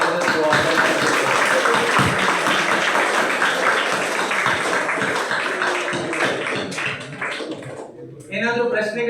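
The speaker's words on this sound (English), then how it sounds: "a big round of applause to me and for all the organizers who organized this" An audience at a career-pathways talk claps in a dense, steady wash of applause, with voices mixed in throughout. The applause eases slightly toward the end.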